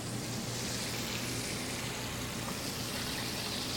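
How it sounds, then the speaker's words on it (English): Shrimp frying in extra virgin olive oil in a pan, a dense steady hiss and crackle of sizzling oil that fills the moment continuously and evenly, heard close with no talk. "We use the extra virgin olive oil because it fries up a better product"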